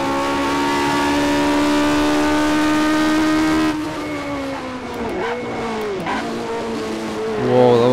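Classic Tyrrell race car in rFactor 2 at Silverstone, engine holding a loud steady high note, then easing and blipping through a corner before revving hard again on exit, with a tire squeal near the end.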